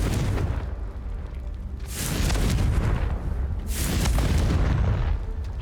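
Fiery Confringo spell blasts in the video game Hogwarts Legacy, sounding as a series of deep, loud booms, roughly three rumbling bursts spaced a couple of seconds apart with no voices.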